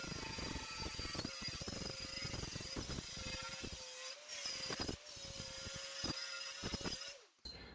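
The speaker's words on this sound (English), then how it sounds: "Let's wire weld that quickly." Wire welding on a 1966 Triumph GT6 crackles and buzzes in sustained bursts, close and steady, broken by a few short pauses between welds.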